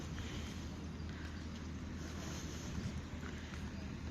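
Steady wind rushing and buffeting against the microphone, a constant low roar with no voices, continuous throughout.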